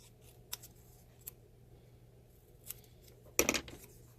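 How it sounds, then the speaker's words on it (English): Scissors cutting out small paper labels for dollhouse shampoo bottles make faint, close snips at intervals, ending in a brief louder cluster of cuts and rustle over a quiet hum. "You can cut them out however you want."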